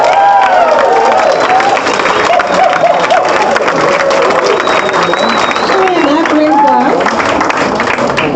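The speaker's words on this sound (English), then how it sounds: "Let's give our graduates another big round of applause" Audience at a graduation ceremony gives the graduates a big round of applause, loud sustained clapping and cheering from a large crowd filling the hall with steady dense noise.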